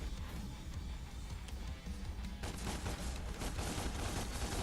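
Rapid, continuous gunfire from the action game Devil May Cry on PS4, a dense barrage of shots during target practice that keeps up without a pause and grows sharper and more crackling in the last half.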